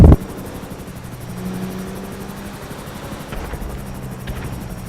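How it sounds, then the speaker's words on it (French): A GTA 5 helicopter's steady low rotor drone hums through the whole stretch, with a sharp loud burst right at the start and faint clatter later on. "C'est un hélico qui tire depuis tout à l'heure."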